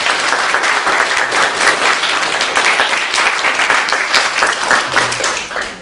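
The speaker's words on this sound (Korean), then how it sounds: "우리 다시 한번 박수로" Sustained applause from a church congregation at a Sunday worship service, dense and steady for several seconds, tapering off at the very end.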